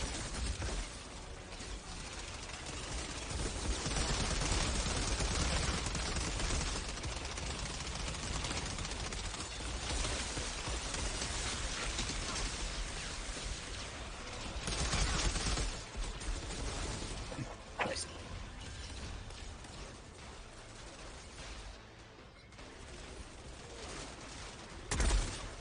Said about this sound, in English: I sniped his head